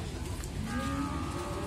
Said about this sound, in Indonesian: di sini ada sapi-sapi pegon teman-teman